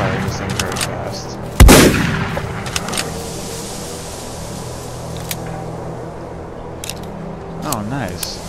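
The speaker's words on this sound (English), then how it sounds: "The pump slide for the shotgun, it's understandable it has a low rate of fire." A pump-action shotgun in the pre-alpha demo of the game Fallout Equestria fires a single loud blast, followed by faint clicks and a quieter, steady background hum.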